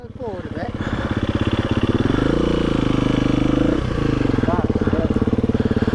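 A motorcycle engine running steadily at moderate revs during an off-road riding lesson, loud and close throughout, rising slightly in the middle, while an instructor talks over it.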